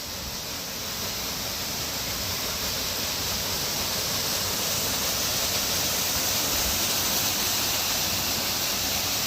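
Water rushes steadily past the historic mill at Silver Springs, a broad, even roar of flowing water that holds constant throughout, fairly loud and with no voices over it.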